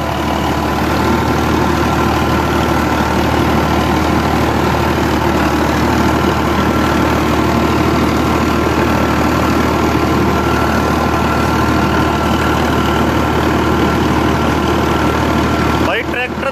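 A 1997 Farmtrac 60 Powermaxx tractor idles with a loud, steady diesel drone that holds unbroken and close throughout.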